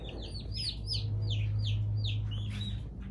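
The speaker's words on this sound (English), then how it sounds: "George, why are you excited about to have baby birds?" Baby chicks chirp in a rapid string of high, bright peeps over a steady low electrical hum, close and continuous, with no voices.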